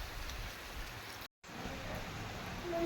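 Steady, dense cyclone rain hisses continuously, broken by a moment of dead silence before the downpour resumes just as heavily.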